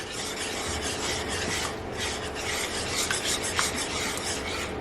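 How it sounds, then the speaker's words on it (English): A spoon is stirred through shrimp scampi filling for pasta lasagna roll-ups, giving a steady close scraping and rasping that runs continuously with small louder scuffs and no talking. "You want to give that a little stir."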